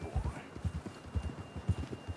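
A horse's hooves clip-clop at a steady trot in Red Dead Redemption 2, close and clear, in rhythmic pairs of dull thuds.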